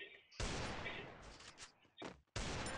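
Gunfire in the mobile shooter game Garena Free Fire: loud, dense bursts of shots with short gaps between them, and excited voices talking over the action.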